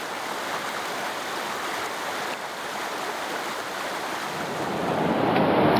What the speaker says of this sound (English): the colossal noise of this river